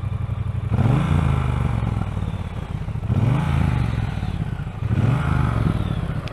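Triumph T120 Bonneville motorcycle engine on its standard exhaust, revved three times in loud, close blips that rise and fall, with a lumpy idle between them.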